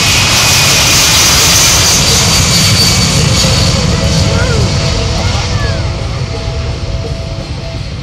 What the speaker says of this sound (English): Look at that takeoff! Over 40 degrees nose high as the air crew rapidly departs the airfield